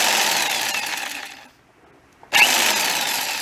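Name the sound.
jigsaw running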